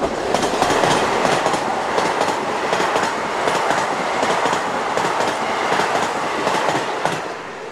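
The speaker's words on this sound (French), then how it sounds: "Le train." A train rolls along the rails with a continuous loud rumble and rhythmic clickety-clack of wheels, steady throughout with no voices.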